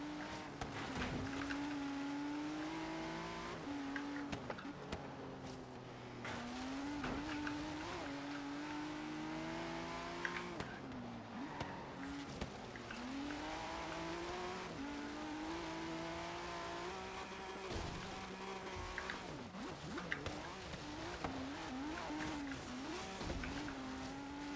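Race cars roar through a Forza Horizon 3 race, engines climbing and dropping through gear shifts with occasional tire squeal, loud and continuous for the whole stretch with no talk.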